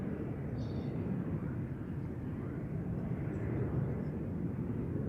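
An Aer Lingus airliner departs Schiphol for Dublin, a broad, steady jet roar heard from a distance outdoors at the airport.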